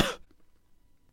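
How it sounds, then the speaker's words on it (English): One short, sharp cough at the very start of a recording, close and loud, followed by near silence with faint low background rumble. "use trimming to remove this cough from the recording"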